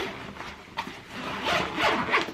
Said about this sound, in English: then you detach the bag by these zips